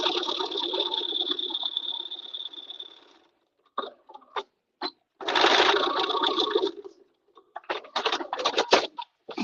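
A domestic sewing machine stitches the corner of a crewneck sweater, running in a long whirring burst, then short stops and starts, then another sustained run followed by several quick bursts, close and fairly loud.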